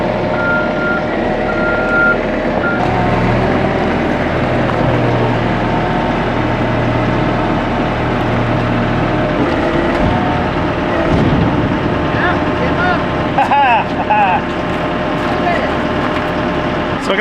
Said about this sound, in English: we're gonna grab the forklift and we're gonna reach under here, give it a little tug and see if it's loose